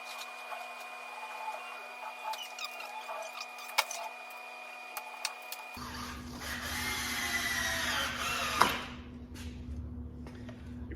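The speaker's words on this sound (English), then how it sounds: "I'm using a Black & Decker battery screwdriver" A Black & Decker battery screwdriver drives screws while building a workshop tool wall, a steady motor whir starting partway through and running on, with a brief louder burst near the end.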